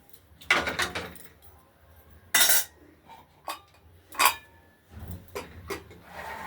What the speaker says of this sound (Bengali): এবার ঢাকনাটা দিয়ে দিলাম।